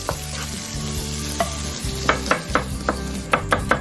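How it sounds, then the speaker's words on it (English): Long beans stir-frying in a hot pan give a continuous sizzle, with a spatula scraping and stirring in quick repeated strokes, close and fairly loud, with no talking. "Now I'm going to give a quick fry to the long beans"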